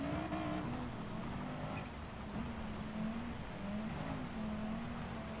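A Subaru BRZ race car in Gran Turismo Sport holds a steady, droning engine note with slight pitch wavers under continuous loud motor noise during a rallycross race, with no talking.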